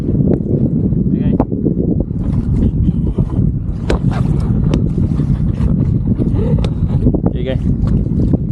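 Steady wind buffets the microphone on a boat during a fishing trip off Penang, a constant loud roar throughout, with people talking over it.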